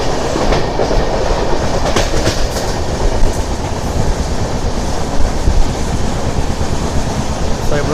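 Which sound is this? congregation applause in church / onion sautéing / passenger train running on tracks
passenger train running on tracks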